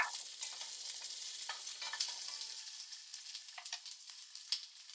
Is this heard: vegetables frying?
yes